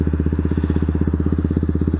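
A Honda Z125 motorcycle idles at about 2000 RPM after a recall adjustment, a loud, close, steady rapid putter with an even pulsing rhythm throughout.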